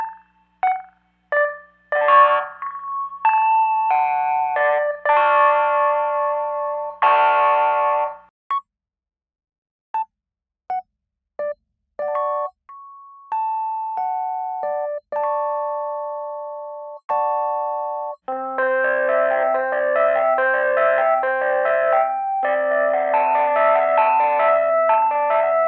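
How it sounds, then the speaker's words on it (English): A software instrument played through a very fast delay with heavy regeneration: short synth notes and quick phrases, each followed by slappy, echoing repeats, with gaps of silence between bursts and a denser run of chords near the end. "I set a really fast delay with a lot of regeneration, so it's gonna be kind of slappy, echoey"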